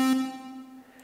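A single synth note from the Massive soft synth with a small reverb, struck once and decaying quickly over about a second, clear and close with no voices.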